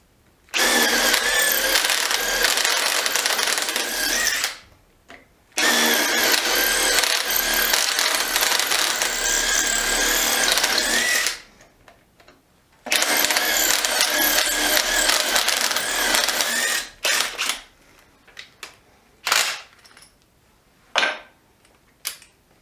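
A Makita DT111D 12-volt impact driver running: two long, loud bursts of rapid hammering chatter, each several seconds long, followed by a string of short trigger blips with quiet gaps between, close by and without talk.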